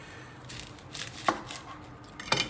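A knife cuts the ends off an onion on a cutting board, giving two crisp, close chops against quiet background rustling.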